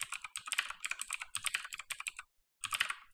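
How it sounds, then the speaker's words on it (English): Quick bursts of keystrokes on a computer keyboard as a passphrase is typed, close and crisp, with a brief pause before a final flurry of taps. "Here in the key passphrase, we're going to type a very secure password."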